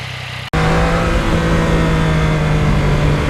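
A 2020 Yamaha MT-09 motorcycle on a ride beside the Hudson River gives a loud, steady engine drone with a strong hum, right after a brief dropout at the start, with no talking.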